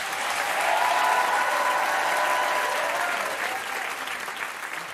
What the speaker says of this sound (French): Vous pouvez applaudir encore Roméo Elvis.